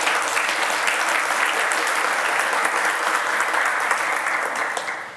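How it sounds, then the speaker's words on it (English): A workshop audience applauds the speaker Andres, a steady, dense patter of clapping from a room of people that holds evenly for several seconds before tapering off at the end. "let's give a short applause for Andres"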